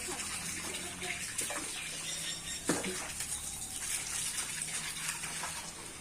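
Water splashes and gushes as it is poured over the walls and feeding trough of a cow shed on a home farm, a steady rushing wash with one sharper splash midway.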